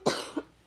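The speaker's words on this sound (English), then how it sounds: "when I have to cough, I'm not coughing toward you" A single sharp cough bursts out close by, followed a moment later by a smaller second cough, both in a quiet cabin on a cruise ship.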